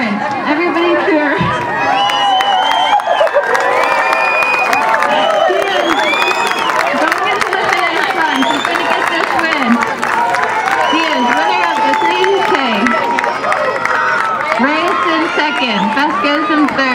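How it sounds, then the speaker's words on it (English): Crowd cheering and shouting fills the air continuously as runners hit the final sprint of a women's 3000m race at a city championship track meet, loud and steady throughout with scattered clapping and voices. "Everybody cheer."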